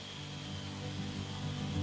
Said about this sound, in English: I sanded it to a 120 grit before priming it.